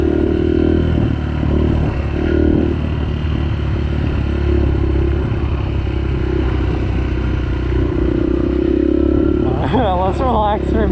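A 2016 Yamaha 125 dirt bike riding on a trail, a steady close engine drone with rough clattering, and a voice speaking near the end.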